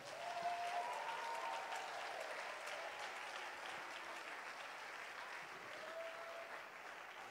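A church congregation at a New Year's Eve service in Abidjan applauds and cheers for God: a steady, even wash of clapping from many hands that holds from start to finish, with no one speaking over it.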